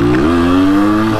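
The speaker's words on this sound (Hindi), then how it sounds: "देखो ये फर्स्ट गियर में बाइक है" A Yamaha RX 100 two-stroke motorcycle engine revs hard in first gear, a loud, steady buzzing drone with a slight pitch rise near the start, close and continuous with no talk.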